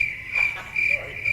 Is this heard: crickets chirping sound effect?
yes